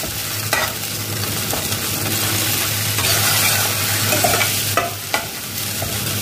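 Ginger paste and tomato fry in a pan, giving a steady close sizzle broken by a few scraping stirs.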